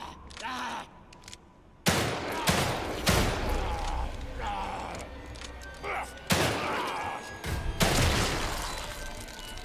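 Heavy gunfire in the survival-horror game The Evil Within 2, fired at an enemy: several loud, booming shots burst out at irregular intervals, with groans and rumbling action between them.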